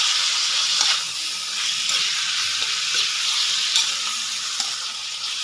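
Pork chop sautéing in oil in a pan makes a continuous close sizzle, with light stirring scrapes and clicks scattered through it.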